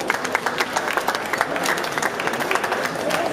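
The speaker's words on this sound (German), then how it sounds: "Ich denke, er kriegt da jetzt schon mal einen großen Applaus." An audience applauds a boxer at a weigh-in held in a shopping centre, with dense, steady clapping from a crowd throughout and murmured voices beneath.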